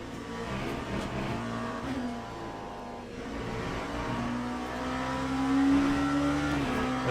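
A race car engine in Le Mans Ultimate at Silverstone during a big-grid event with LMP prototypes, droning loudly and steadily, its pitch climbing smoothly as the car accelerates near the end.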